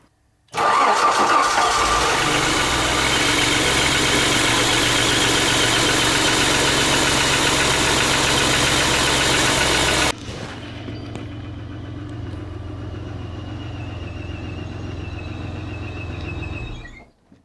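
An engine in a Citroën XM barn find with a stuck throttle assembly runs loud and steady, then drops to a lower, quieter idle for several seconds before cutting out abruptly at the end.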